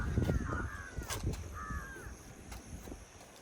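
A bird calls outdoors with two drawn-out, crow-like caws over a steady background hiss, moderately close and without talk.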